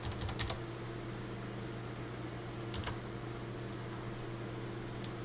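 Typing on a computer keyboard comes in short clusters of quick keystrokes near the start, another brief burst midway and a final tap at the end, all fairly quiet over a steady low hum.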